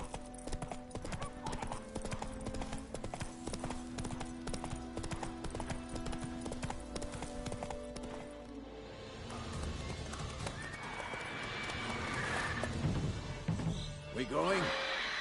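Hooves clip-clop steadily from a horse ridden in The Witcher 3: Wild Hunt, with a whinny breaking in and a busier stretch of noise toward the end.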